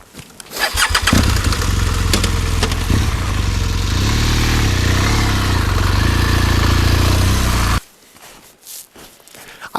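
An adventure motorcycle in a snowy offroad setting starts up and runs with a loud, steady engine drone for several seconds, then the engine sound cuts off abruptly, leaving near quiet.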